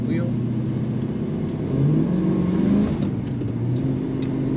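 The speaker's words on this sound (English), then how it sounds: "the tires wanted to break loose when I hit the throttle hard" A 1990 GMC Sierra 1500 pickup accelerates hard on slightly wet roads, its mid-pitched engine note rising and swelling as the revs climb, with talk over the steady road noise.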